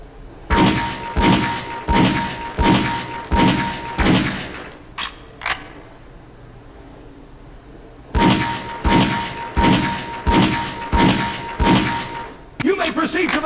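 Rapid gunshots ring out in Half-Life: Opposing Force, a first volley of about eight evenly spaced, loud metallic shots, a short pause with a couple of clicks, then another steady burst of similar shots.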